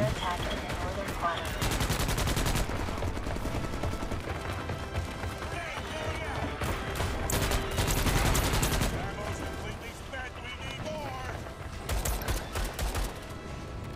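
Dense gunfire rattles in a video game battle, rapid automatic bursts and heavier blasts that swell and ease in waves, with a voice speaking in between.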